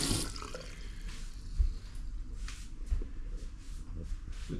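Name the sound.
water running from a tap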